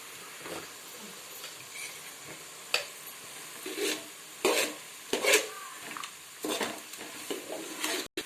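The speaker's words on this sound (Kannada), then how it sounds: "ರುಚಿಗೆ ತಕ್ಕಷ್ಟು ಸ್ವಲ್ಪ ಖಾರ ಪುಡಿ ಹಾಕಿ ಮಿಕ್ಸ್ ಮಾಡಿ" A spatula stirs chili powder into pulao in a pan, giving soft, irregular scraping strokes and light clinks over a quiet frying hiss, with no talk.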